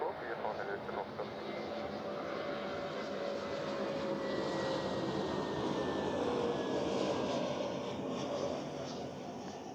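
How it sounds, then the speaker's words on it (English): An airliner touching down at Zurich Airport, a broad steady roar of jet engines and rushing air that holds loud and constant throughout, with faint radio chatter mixed in. "Ooh, that was a nice touchdown there."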